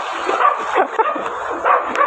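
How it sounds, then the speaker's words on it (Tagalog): Small dog yipping and barking in short bursts, fairly close, with a person laughing and murmuring at moments. "Kanina bang aso yan?"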